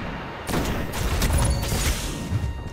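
Sniper rifle fire in the video game Trials: after a quiet moment, loud, close gunshots crack out, followed by a dense, rumbling barrage of repeated reports that keeps going to the end.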